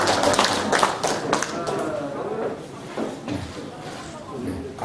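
Audience applause at an award ceremony in a national assembly library auditorium, a dense burst of clapping at the start that thins and fades, with a voice speaking over it.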